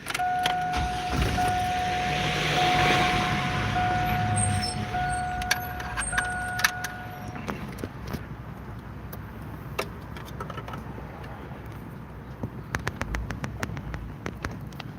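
A car engine turns over and runs from inside the vehicle, a steady broadband rumble with a sustained whine in the first half and scattered small clicks and rattles, fairly close, with no talking.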